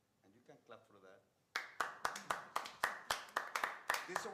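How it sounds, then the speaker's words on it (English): Audience at a town council meeting clapping for a safety incentive award, loud and close with sharp irregular claps, preceded by a speaking voice. "And you can clap for that."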